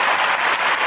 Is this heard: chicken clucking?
no